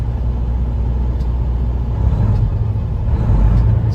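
Deep, steady idle rumble of a 2015 Peterbilt 389 glider kit truck engine warmed up to temperature, close and constant, with a faint rise in the low drone toward the end.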